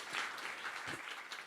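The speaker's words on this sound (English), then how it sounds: "round of applause." An audience at a climate tech panel event claps for a short stretch, a soft, fairly distant patter of hands heard on its own, without talk.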